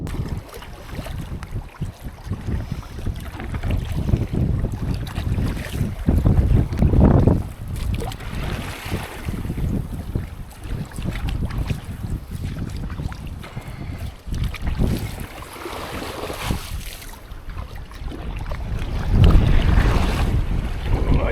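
Boat on a choppy, wavy river near Pigeon Island, with steady wind buffeting the microphone and water slapping against the hull, surging louder toward the end, no talking.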